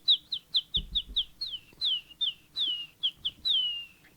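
A person whistles an imitation of a killdeer's call outdoors while camping: about fifteen sharp, high, descending 'kill-dee' notes in a quick, uneven series, some drawn out, with faint background noise and no speech.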